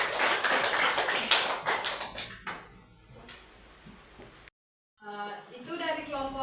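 A classroom of students clapping for group 2, a dense burst of hands at close range that fades out midway, followed after a short silence by a voice talking.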